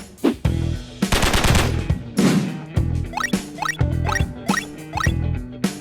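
A CZ Scorpion EVO 3 S2 9mm pistol-caliber carbine fires in sharp, loud bursts and single shots at close range, with a dense rapid string early on followed by several spaced reports.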